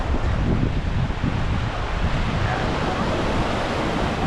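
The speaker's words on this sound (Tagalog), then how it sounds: "Dito tayo sa tabing dagat." Ocean waves wash steadily onto a seaside shore with a broad, continuous surf roar and some wind buffeting the microphone, loud and close, with no talk.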